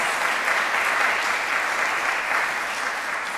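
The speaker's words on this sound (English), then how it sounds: "I think we all owe you a round of applause." Audience applause for a sustainability ministry team at a financial forum meeting, a loud, dense and sustained wash of clapping from a full room that stays steady the whole time.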